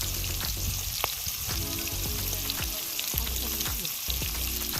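Fish frying in oil in a kadhai over a village wood-fire chulha, a steady close sizzle with crackling pops and scraping stirs throughout.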